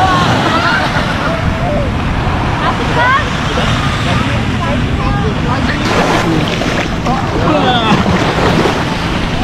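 Ocean waves washing up on a white-sand beach at Pangandaran, a continuous loud surf rush with wind buffeting the microphone, while people talk and children's voices come and go over the water.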